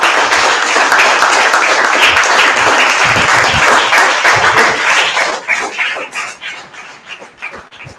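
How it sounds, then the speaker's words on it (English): Audience applause fills a lecture hall at a number theory math session, starting as dense sustained clapping and thinning out into scattered individual claps over the final seconds. "Give him a big round of applause."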